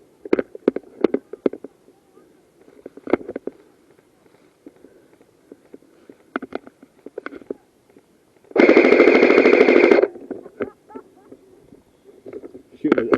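Airsoft guns fire during an outdoor skirmish near an APC, with scattered sharp single pops and one sustained burst of rapid automatic fire in the middle, mixed with movement sounds.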